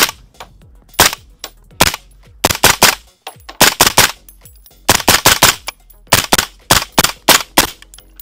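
Gunfire from a PSA JAKL rifle: loud, sharp single shots and quick bursts in irregular clusters with short gaps between them, close and sharp, with no talk.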